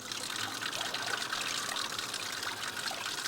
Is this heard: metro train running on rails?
no